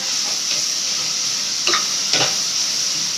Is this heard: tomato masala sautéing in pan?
yes